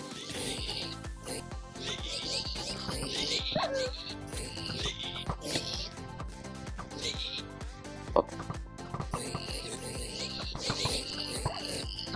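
Tamed dogs in a Minecraft castle siege yip, bark and whimper in quick bursts, mixed with game music and someone speaking German over the action.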